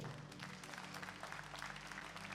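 A church congregation applauds at a worship service, a soft, steady patter of many hands that sounds distant and continuous throughout.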